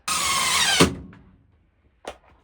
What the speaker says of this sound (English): I'm getting way better at putting the screws in without stripping the screw